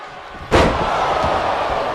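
A wrestler slams down onto the mat in the WWE 2K25 video game, a single loud, sharp impact followed by a sustained roar from the arena crowd.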